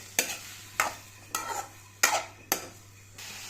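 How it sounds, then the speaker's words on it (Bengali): A spoon stirs tomato and dried plum chutney in a pan, five distinct scraping strokes at a steady pace over a low sizzle, close and clear. "এখন একটু নেড়ে চেড়ে দিচ্ছি।"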